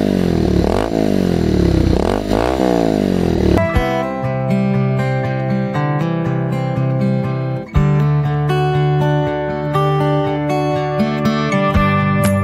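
A Yamaha R15 V3 motorcycle engine revs up and down in rising and falling sweeps for a few seconds, loud and close, before music takes over.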